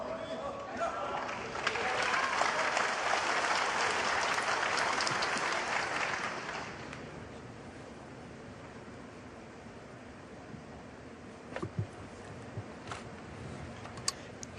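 A snooker arena crowd at the Shanghai Masters applauds for about six seconds, a broad, moderately distant wash of clapping that dies away into a quiet hall with a few faint clicks and a voice murmuring.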